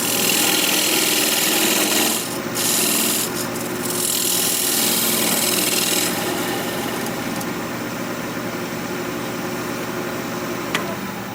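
A skew chisel cuts a dovetail inside a recess on a piece spinning on a wood lathe, giving a steady close scraping rasp that runs throughout, with brief bursts of harsher cutting early on and no talk.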